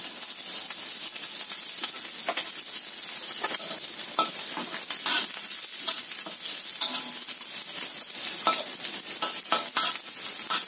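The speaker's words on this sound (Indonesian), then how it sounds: "Kita tumis dulu bawang merahnya sampai agak matang." Shallots stir-fry in a little oil in a pan, a dense, continuous close sizzle and hiss at a steady level with faint scraping from stirring.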